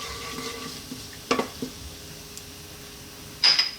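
Spices frying in hot oil in a pan for a masala, a soft continuous sizzle broken by a few sharp clinks and scrapes of a utensil against the pan.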